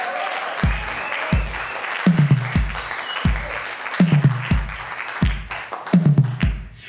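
A live comedy show audience claps in sparse, uneven bursts, a handful of distinct hand claps at irregular intervals rather than a full ovation, with faint background murmur between them.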